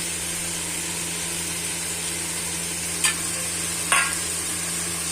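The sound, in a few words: stirring chili and coriander powder into sundakkai kuzhambu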